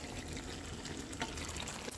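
Water is poured into chicken korma cooking in a pan on a balcony at night, giving a close, steady splashing trickle for a couple of seconds with no talk.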